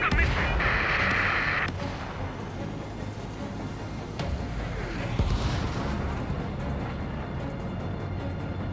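A missile strike explodes against the player's jet in the Ace Combat 7 flight game, a loud rumbling blast with a bright crackling burst near the start that rolls into a sustained roar of engine and battle noise.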